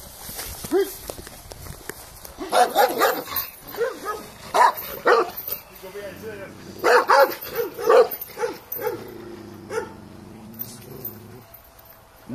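Billy the dog barks in repeated close, loud bursts, with voices talking and urging him on around the barking.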